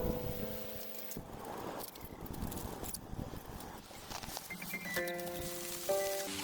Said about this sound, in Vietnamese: trời cũng vừa đúng lúc đổ một cơn mưa lớn